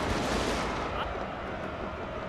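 Rifle volleys from Tosa riflemen in the Total War Shogun 2 strategy game crackle as a dense burst of overlapping shots and booms, loud and continuous with battle noise throughout.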